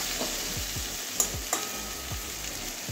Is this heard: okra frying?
yes